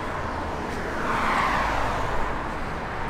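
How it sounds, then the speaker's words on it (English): Steady low engine rumble from a 1973 Ford Mustang convertible fitted with Flowmaster dual exhaust, a continuous near drone that swells slightly midway, with no talk over it. "It's got Flowmaster dual exhaust. Got great sound to it."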